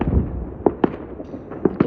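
Fireworks burst outdoors at a distance, several dull thumps and pops spaced irregularly over a low rumbling background, with no talk.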